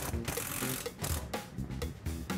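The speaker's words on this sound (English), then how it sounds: "Screw through the back of the cabinet into the studs at the top of the cabinet." A screw is driven through the back of a kitchen cabinet into the wall studs: a close, ratcheting drill-driver whir in several quick pulses and short stops.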